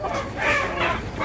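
Young roosters, a jalak and a kelabu api fighting-cock pair resting, make soft, continuous clucking and throaty fowl calls close by, with two swelling bursts and no talk.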